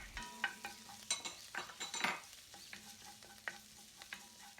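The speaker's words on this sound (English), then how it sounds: "Add the minced garlic and saute until fragrant." Minced garlic sautéing in a pan, a soft, quiet sizzle under clinking stirring and scraping sounds, irregular and close, with no voices.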